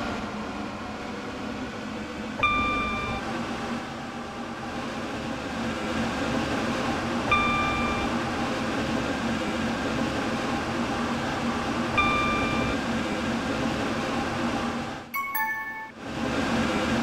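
Train running in the Stepford County Railway video game, a steady low rumbling roll with three brief high tones spaced evenly, then a short burst of squeal and clatter near the end.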